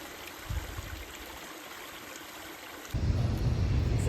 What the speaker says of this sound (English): It's amazing how such little water can make such a amazing, peaceful sound.